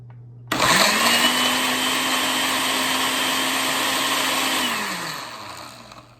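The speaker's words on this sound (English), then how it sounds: "We're gonna blend this ginger" A blender starts abruptly and runs at high speed on sliced ginger, a loud, close, steady motor roar with a droning tone that holds for several seconds before winding down and stopping.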